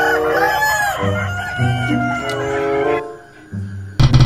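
Rooster crowing loud and close in one long drawn-out call, followed by a short clucking burst at the end.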